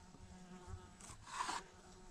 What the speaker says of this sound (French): Déjà, j'ai des mouches dedans, les pauvres,